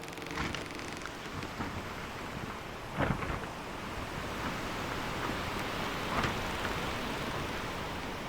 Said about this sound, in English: Oh, and there's a storm ahead.